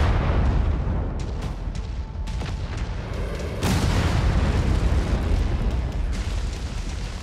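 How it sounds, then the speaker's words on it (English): Incoming missile explosions in the video game MechWarrior 5, a heavy, rumbling boom sustained across several seconds with a fresh blast surging partway through, loud and close. "Incoming missile."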